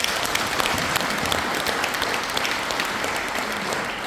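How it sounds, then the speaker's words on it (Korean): A lecture audience claps in steady, sustained applause that fills the room evenly, loud and dense with no voices standing out. "이거 박수 한번 쳐야 됩니다."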